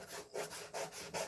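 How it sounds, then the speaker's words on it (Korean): Sandpaper rubs along the grain of a wooden speaker panel in three steady back-and-forth strokes, a soft, close, rhythmic scratching with brief pauses between passes. "사포질은 항상 결 방향으로 해주셔야 돼요"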